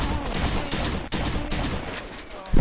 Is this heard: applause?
no